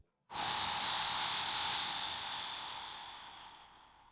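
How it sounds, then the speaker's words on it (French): A long, steady exhale during a lower-back and hip stretching exercise begins suddenly and continues as a close, breathy hiss for nearly four seconds, slowly softening toward the end. "J'inspire et j'expire"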